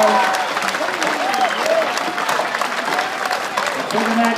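Crowd applause and cheering at a world tree felling championship heat, a steady dense wash of clapping and voices held at even loudness throughout, with a commentator's voice over it.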